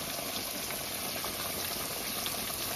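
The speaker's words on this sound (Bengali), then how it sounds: "কিভাবে মাছটা ভাজা চলছে।" Desi bhetki fish frying in a pan, heard as a dense, steady sizzle and bubbling hiss, close and continuous with no talk.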